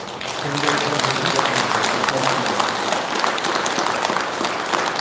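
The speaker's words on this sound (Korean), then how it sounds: "우리 나오신 서로 여러분들의 공덕을 찬탄의 박수로서" A Buddhist dharma assembly congregation in a packed hall claps in praise of one another's merit. Dense, lively applause continues throughout, with a voice briefly audible at the start.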